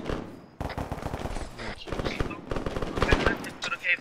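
Rapid automatic gunfire fills a Metal Gear Solid V game battle as dense, continuous bursts of shots crackle and rattle close by, layered with game noise and a voice talking over it.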